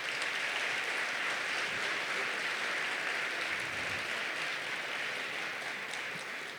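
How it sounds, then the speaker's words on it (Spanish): A steady, dense wash of audience applause fills a book fair presentation in Buenos Aires, continuous clapping from a crowd holding an even level throughout, with no voices on top. "Un aplauso."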